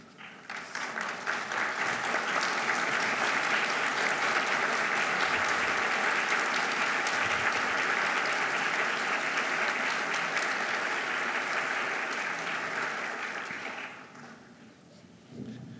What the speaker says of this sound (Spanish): Yo a todo el auditorio les pido que se pongan de pie y les den un cordial aplauso.